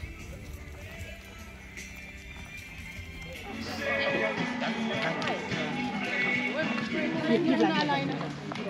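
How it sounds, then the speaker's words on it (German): Hooves clip-clop steadily on arena ground as a horse is ridden at a horse show, with an occasional whinny, and people talking throughout. "Mia, dann darfst du auch gleich einmal umdrehen und reitest mal andersrum"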